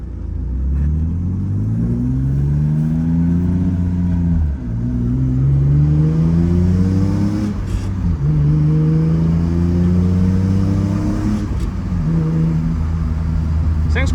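A BMW E36 drift car with a custom-fabricated exhaust revs repeatedly, its deep engine note rising in several swelling pulls and dropping back to idle between them.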